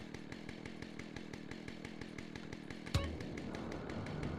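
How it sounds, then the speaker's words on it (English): A video game chainsaw held by the player idles in a steady rapid buzzing putter throughout, with a sharp clank near the middle after which the engine tone roughens and continues. "What's with the sound? I'm holding a, chainsaw."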